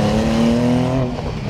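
A Porsche 911 Sport Classic accelerates with a loud, steady engine tone heard from inside, its pitch rising slightly before easing off as the revs drop near the end.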